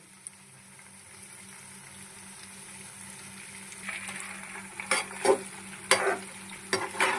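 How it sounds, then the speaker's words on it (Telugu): Chicken pakoda with cashew nuts frying in a pan of oil, a steady low sizzle that grows louder, then sharp scraping clatters as the pieces are stirred several times near the end. "బాగా కలుపుకొని వేయించేసుకుందామండి"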